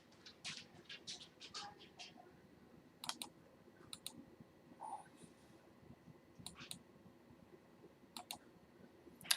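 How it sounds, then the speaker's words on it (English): A computer mouse clicking during an online video call: several sharp, quiet clicks scattered at irregular intervals over a faint background hum, with no speech. "I'm clicking ask to unmute."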